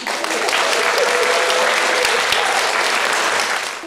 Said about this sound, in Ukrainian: А те, що вона сказала правду, підтвердили бурхливі овації присутніх.